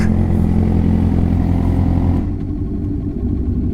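Motorcycle engine idling in first gear while parking during a group bike ride, a loud, steady, close rumble that drops to a quieter idle partway through.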